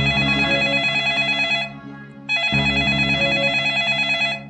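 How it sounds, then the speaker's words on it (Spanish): A telephone rings loudly and close, a bright trilling bell in two long bursts separated by a short gap, with no one speaking. "Zolando usa el teléfono y comienza a llamar"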